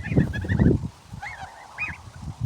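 Geese honk on a farm during hay-making, a short cluster of nasal calls up close followed by a few more scattered honks at moderate distance, with no talking.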